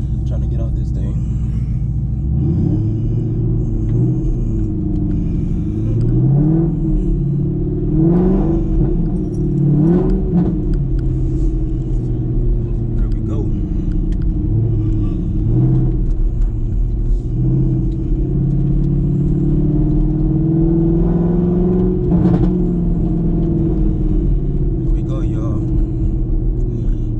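A 2008 Pontiac Grand Prix GXP with traction control switched off spins its wheels trying to get free. A loud, steady engine roar rises and falls with throttle through the whole stretch, close by and continuous.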